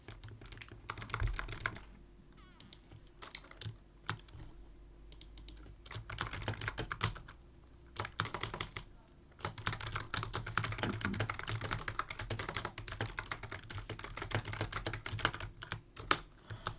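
Keys clatter on a computer keyboard in rapid bursts of typing, broken by a few brief pauses, close and steady throughout with no talking.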